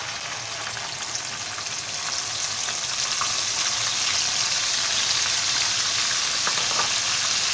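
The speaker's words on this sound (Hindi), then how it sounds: "इसको करते हैं फ्राई। तकरीबन प्याज हमारा फ्राई हो रहा है।" Onion paste frying in a pan for daal maash, a steady dense sizzle that gets slightly louder partway through, close and continuous, with no talk.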